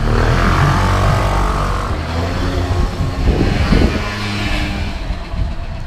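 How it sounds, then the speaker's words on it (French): Motor scooters pass along a village road in rural Japan: a steady engine drone that swells as machines go by midway, then eases off, with no talking. "Là, il y a les scooters qui passent, tu sais."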